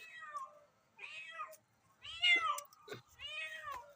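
A mother cat meows four times in separate drawn-out calls to her kitten, close and clear, with short quiet gaps between.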